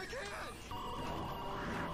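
A cartoon brick mobile phone rings with a bright electronic trill, heard briefly among clattering sound effects and a voice talking over it.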